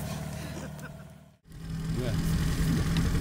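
A Yamaha 9.9 outboard motor on an inflatable boat hums steadily at mid pitch, dipping briefly before resuming its loud, close drone.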